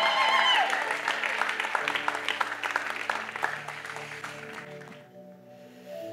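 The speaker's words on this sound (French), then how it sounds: "Est-ce qu'on peut acclamer pour nos musiciens, excellents musiciens?" Audience applauding the musicians in a church, a full room of clapping that starts loud and gradually fades out, with music and voices faintly underneath.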